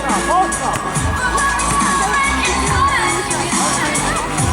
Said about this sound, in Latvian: Labi, Jurģis liels ovācijas.